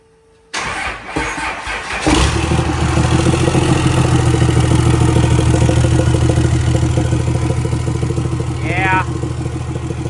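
A 1200HP Cummins truck engine with a failure cranks and fires up, then runs loud and rough with an uneven, knocking idle close by; a brief voice cuts in near the end.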